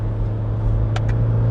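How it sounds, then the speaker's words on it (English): A Toyota Fortuner's engine hums at a steady low rumble from inside the cabin in manual mode during a downshift, with two brief faint clicks near the end. "Okay, I'm gonna put it on manual. I'm gonna downshift."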